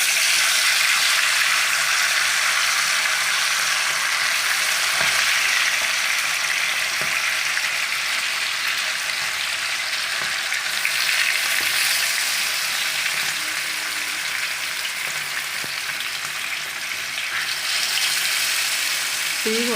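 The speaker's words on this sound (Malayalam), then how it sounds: "റെസ്റ്റ് ചെയ്യാൻ വെച്ചതിന് ശേഷം നമുക്ക് ഇത് എണ്ണയിലിട്ട് വറുത്തെടുക്കാം." Chicken pieces deep frying in hot oil for a Kerala-style chicken fry, a continuous loud bubbling sizzle throughout with brief stirring or clatter, close up and with no talk.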